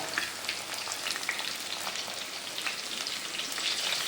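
Garlic, ginger and curry leaves fry in hot oil for a Kerala fish curry, giving a dense, steady sizzle with crackling pops throughout, close and loud with no talking.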